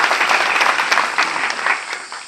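Audience of students and parents at a political address in India clapping hard, a dense, loud and continuous burst of applause from many hands close by, with no speech over it.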